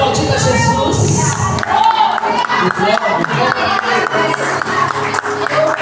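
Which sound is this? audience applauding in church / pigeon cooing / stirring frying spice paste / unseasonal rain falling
audience applauding in church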